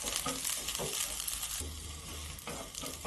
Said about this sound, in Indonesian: Ini kita tumis dulu bawang merahnya.